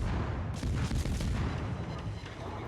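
Destroyer guns fire in quick succession in World of Warships, heavy booming rumbles overlapping into a continuous low barrage, loud and close, with no voices.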